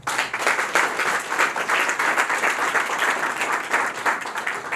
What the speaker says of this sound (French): que je vous demande d'applaudir maintenant